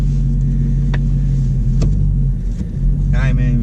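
A 2017 Dodge Challenger R/T Plus engine rumbles steadily up close while driving, a deep continuous drone with brief higher swells, as people talk over it inside the car.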